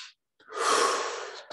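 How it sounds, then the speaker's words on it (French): A single deep breath in during a guided meditation, drawn slowly for about a second after a short pause, soft and close. "Quatre dernières respirations."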